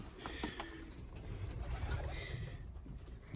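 Pigeons coo faintly in the background, soft low murmuring calls over a quiet low rumble of ambient noise, with no one speaking.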